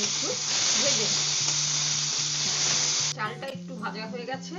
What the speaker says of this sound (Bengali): এই চালটাকে এবারে আমি একটু ভেজে নিচ্ছি।